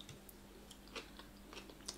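Raw vegetable salad chewed close to the mic during a mukbang, with faint, scattered crunches and moist bites over a quiet, humming background.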